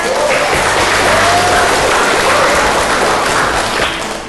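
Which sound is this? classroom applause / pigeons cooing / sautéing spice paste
classroom applause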